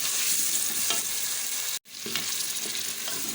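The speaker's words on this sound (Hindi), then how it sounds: "चिकन ऐड करने के बाद आपने फ्लेम को मीडियम कर देना है और फिर हमने इसकी भुनाई कर लेनी है।" Chicken pieces fry in a karahi with golden onions over a medium flame, a loud, steady close-up sizzle with occasional stirring scrapes, briefly cut off mid-way before resuming.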